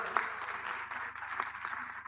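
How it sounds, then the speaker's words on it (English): An audience at a conference session applauds for about two seconds. The clapping is steady and moderately distant, with a faint room echo behind it. "Give big applause."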